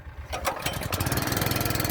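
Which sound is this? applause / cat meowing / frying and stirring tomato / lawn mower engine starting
lawn mower engine starting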